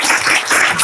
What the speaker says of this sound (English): I would really like that you could give them a very nice warm round of applause.